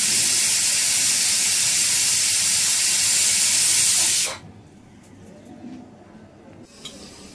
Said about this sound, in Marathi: झाली कुकरची शिटी.